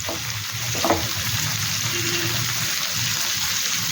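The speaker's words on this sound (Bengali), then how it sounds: "আর আমরা জানি ভেন্ডিটাও একটু সময় লাগে ভাজা হতে" Okra fries in a pan with peanuts and coconut, giving a steady close sizzle with a brief stir partway through.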